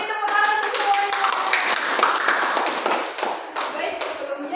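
An audience at a handwashing health education session claps hands together, a steady lively round of clapping that continues throughout while voices mingle underneath.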